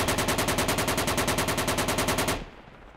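Rapid, sustained automatic gunfire from a firefight in the military shooter game Project Reality, a steady burst of evenly spaced loud shots lasting over two seconds before cutting off abruptly into quiet.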